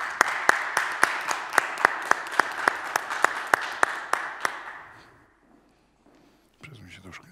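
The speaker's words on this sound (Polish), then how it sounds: "Brawa!" An audience at a school competition final gala in Poland claps in a steady rhythmic unison beat, loud and close, then fades out into near silence before a voice speaks briefly at the end.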